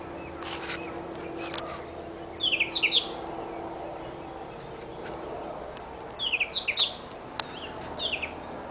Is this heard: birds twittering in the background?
yes